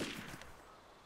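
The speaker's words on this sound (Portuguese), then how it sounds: "Deu dois tiros, depois um só." A gunshot fires in the video game DayZ, a single sharp crack with a fading tail, faint and distant-sounding, alone without talk.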